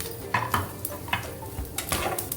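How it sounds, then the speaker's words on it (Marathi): Grated coconut, garlic and spices fry in a little oil for an egg curry, a steady sizzle broken by repeated scraping and stirring knocks of a utensil against the pan. "खोबरं थोडं भाजल्यानंतर आपण हे मसाले टाकून घेऊया।"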